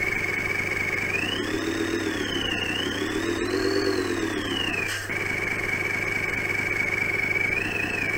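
Engine sound effect module on an electric toy car plays a synthetic motor drone that rises and falls in pitch as the wheels speed up, steady and continuous with a brief cutout near the end, no talk.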